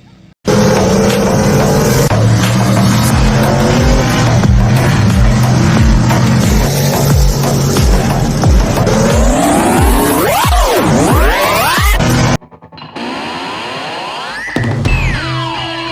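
Race cars roar and rev at a dirt speedway on Saturday race night, a loud continuous engine din with rising and falling pitches as cars pass, then a sudden cut to a thinner, more distant engine drone.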